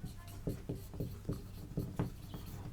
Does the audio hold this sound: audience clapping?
no